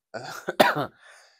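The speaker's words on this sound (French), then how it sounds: "désolé pour la toux, je la retiens depuis tout à l'heure" A single short cough, close and fairly soft, with a brief breathy tail.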